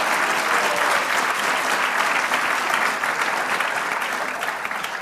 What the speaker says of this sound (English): Let's give Lindsay another round of applause.